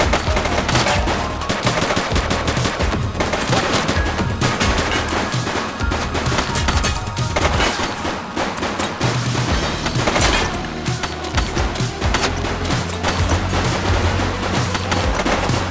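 A shooting suspect in the police game The Precinct fires steady, rapid bursts of gunfire, loud and close, layered with cracks and crashes that carry on throughout.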